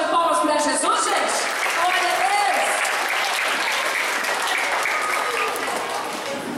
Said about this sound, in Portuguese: Vamos dar uma salva de palmas para Jesus, gente.